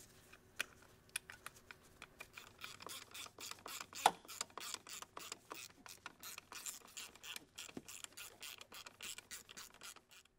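A hand ratchet clicks in quick, uneven bursts while bolts are started on a fuel system part of a Ford 6.0 diesel, with close, faint metallic ticking and small knocks and no talk.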